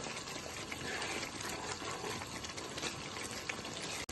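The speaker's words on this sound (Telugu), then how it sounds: "ఒక నిమిషం ఉడకనిద్దాం." Dhaba-style cauliflower curry thickened with gram flour simmering in a pan, with a dense, steady bubbling and hissing that stays constant and close throughout and no voices.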